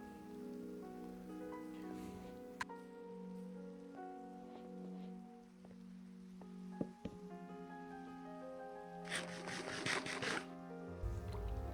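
Rain falling in the video game Minecraft, a soft continuous patter under a quiet layered music bed, swelling briefly into a denser splashy burst near the end.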